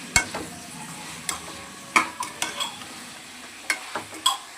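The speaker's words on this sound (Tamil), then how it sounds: "தக்காளி பழம் போட்டு நல்லா வதக்கி வச்சு" Tomatoes sautéing in a pan for kovakkai (ivy gourd) kurma while a utensil stirs, giving scattered scraping clicks and knocks over a faint, steady sizzle, with no talking.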